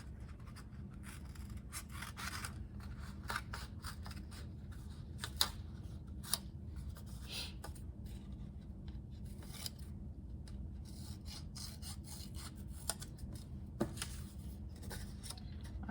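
Scissors snip steadily through paper while a children's fox craft is cut out, a close, continuous rasping of small cuts with occasional sharper clicks, no voices.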